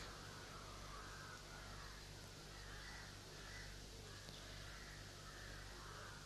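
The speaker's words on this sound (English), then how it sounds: "that the crows should stop their" Crows cawing in trees at an outdoor gathering in Alibag, Maharashtra, India; repeated harsh calls recur at a steady pace, moderately distant, over a constant low hum and background noise.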